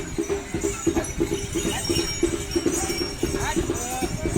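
Pairs of decorated bullocks walk along a village lane toward a temple during the Bail Pola festival, their hooves and bells giving a steady irregular clopping and jingling, close by, with voices murmuring in the background.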